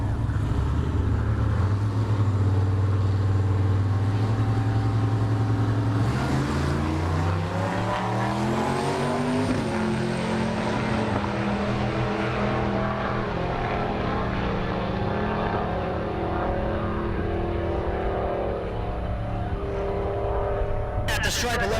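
Drag racing cars, an S10 Blazer and a Mopar, launch and roar down the dragstrip at Great Bend, Kansas; a loud engine drone rises in pitch through the run and then fades into the distance.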